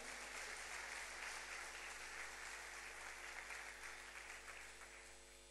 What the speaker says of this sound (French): On va applaudir la parole de Dieu.